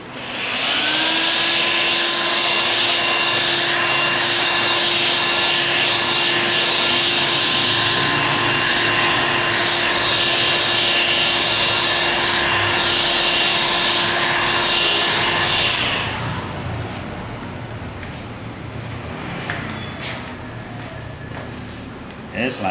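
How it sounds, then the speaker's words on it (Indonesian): Loud, steady whooshing roar of a heat gun drying ink on a screen-printed T-shirt, running continuously up close for about sixteen seconds, then cutting out to quieter handling sounds. "Untuk pengeringannya kita bisa menggunakan hot gun tadi, kita keringkan sampai kering."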